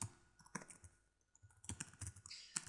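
Keyboard keys clatter in short irregular bursts while JavaScript code is typed on a computer, close and fairly quiet, with brief pauses between runs of clicks.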